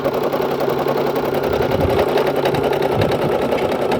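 A portable embroidery machine stitches out black thread outdoors by the waterfront, a loud, close, continuous rapid mechanical rattle and hum that holds steady for the whole stretch.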